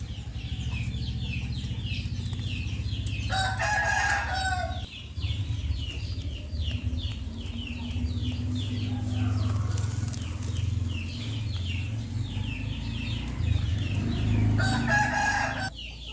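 A rooster crows twice in the background of a rural outdoor setting where fish are being grilled, each crow a distinct burst over a steady low hum and faint chirping birds.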